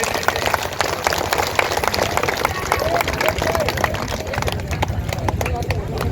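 At a political rally a crowd claps to welcome the candidate, with rapid, uneven clapping from many people running throughout under a loud hall or open-air wash, while people talk over it.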